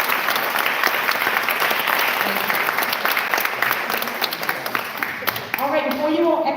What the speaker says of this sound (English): please give a round of applause to everybody